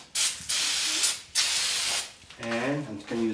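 An aerosol can of O'Reilly brake cleaner sprays onto the rear brakes and rotors of a VW Jetta in two long, loud hissing bursts, followed by someone talking.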